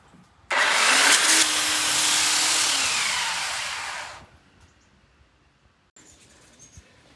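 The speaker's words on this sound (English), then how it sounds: "when you're using a belt sander like this, do not let it sit" A belt sander grinding down the ridges of flooring boards for a dining table, a loud continuous whir that runs for about four seconds and then cuts off, leaving quiet with a faint later rustle.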